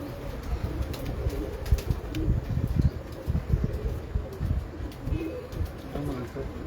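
Several pigeons coo in a low, murmuring chorus, steady and fairly close, in a loft of top-quality fancy pigeons, while people talk faintly in the background.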